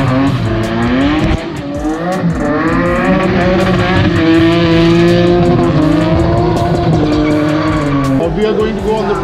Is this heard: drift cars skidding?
yes